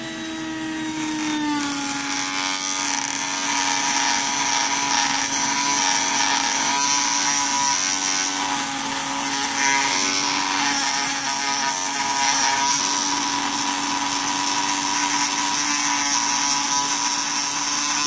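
A power tool grinding a metal Graflix lightsaber part, a steady high whine running continuously at close range for the whole stretch, loud and alone without talking.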